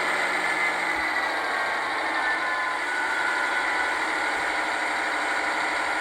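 A Rapido Metra F40PHM model locomotive with a LokSound v5 decoder plays its prime mover sound as a steady, continuous diesel drone with a mechanical whine, held at one level throughout and without speech.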